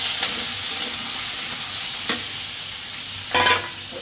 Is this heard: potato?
yes